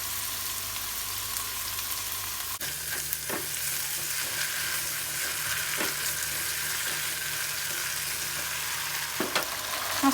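Noodles for mie goreng stir-fry in a hot pan with seasonings and sauces just added, giving a loud continuous sizzle and crackle with occasional sharp scrape and clank accents from stirring.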